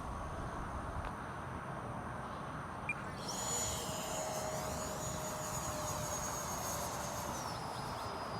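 An E-flite F-16 radio-controlled jet with a 64mm electric ducted fan flies overhead, its high whine rising and shifting in pitch as it passes, over steady outdoor background noise.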